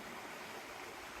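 Steady rushing creek water flowing over rocks on a hiking trail at Blackwater Falls, a continuous broadband wash with no pauses, close and fairly loud throughout.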